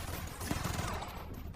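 Gunfire from an action film scene, as a cornered man fires wildly back at his attacker, a faint rapid clatter of shots running steadily under a low background.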